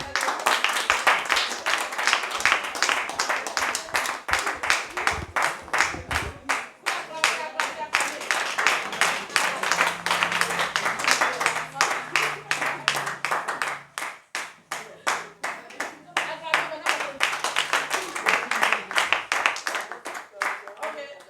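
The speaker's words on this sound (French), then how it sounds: "Beaucoup d'acclamations." Dense, sustained clapping from a church congregation at an Easter gathering, mixed with voices and cheering throughout, with a brief dip in intensity midway before the applause swells again.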